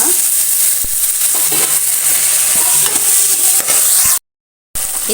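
Onion and tomato fry in a pan while being stirred, with a steady loud sizzle and scraping strokes up close and a brief dropout near the end, no voices.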